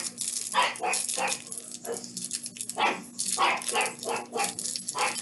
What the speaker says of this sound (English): now the dog's being loud